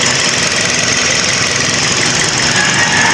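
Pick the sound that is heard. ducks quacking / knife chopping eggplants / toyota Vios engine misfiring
toyota Vios engine misfiring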